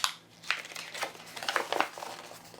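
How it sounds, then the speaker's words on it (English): A sheet of Yupo plastic paper is crumpled by hand, producing crisp, irregular crinkling bursts over a couple of seconds at close range. "So I can kind of crumple this up"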